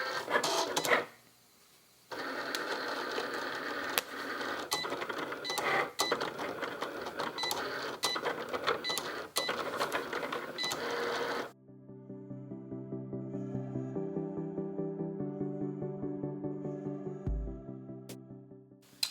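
A home craft cutting machine runs through a cut, giving a busy stretch of rapid mechanical clicking and buzzing with sharp ticks, then a steadier, layered motor whir with tonal steps. It is close and moderately loud, with no talk.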